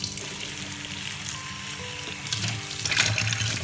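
Strawberries being rinsed under a running kitchen tap, steady splashing and trickling water with a few clinks and a faint hum, getting busier toward the end, no talk.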